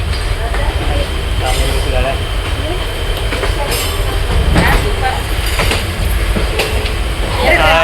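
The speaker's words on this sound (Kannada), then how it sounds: "ಟ್ರೈನ್ ಈಗ ಹೊರಡ್ತು." A passenger train just departing, heard from inside a carriage on a journey toward Kerala: a steady loud rumble with rhythmic wheel clatter and faint squeals, while passengers talk over it.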